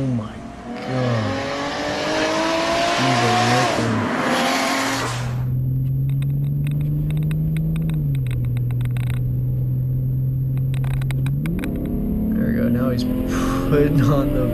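A Lexus car with a swapped 2JZ engine revs and accelerates hard, its engine note climbing and holding loud and close before easing off, with voices talking over the start.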